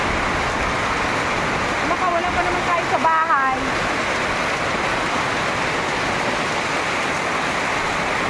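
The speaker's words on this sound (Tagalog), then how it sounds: "Oo, bigla lumakas yung hangin." Sudden strong wind and heavy rain from a storm roar as a dense, steady wash of noise, with people talking over it.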